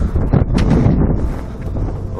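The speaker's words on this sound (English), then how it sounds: "It's windy today." Heavy wind buffets a microphone outdoors on a blustery day at a drone propeller test, producing loud, continuous low rumbling gusts that fill the whole moment without any voices.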